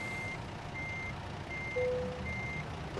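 A truck reversing in American Truck Simulator, with a regular reversing alarm beeping four times over a low engine idle and a brief higher tone midway.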